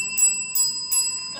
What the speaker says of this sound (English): She will signal 15 seconds to go with a single ring of the bell.